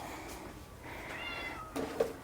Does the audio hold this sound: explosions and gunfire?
no